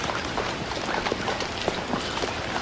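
Horse hooves clip-clop steadily at a livestock auction, a continuous busy patter close by with a noisy crowd-like background.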